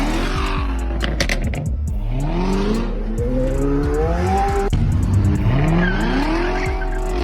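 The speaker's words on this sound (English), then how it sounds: "the car is powered by a V8 supercharged engine" A Corvette supercar with a supercharged V8 engine revs hard and accelerates, with rising and falling engine pitch, repeated gear shifts and tire squeal, loud and close throughout.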